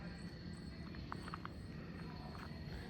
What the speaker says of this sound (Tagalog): yung mga insekto na yan, kuliglig ba yan?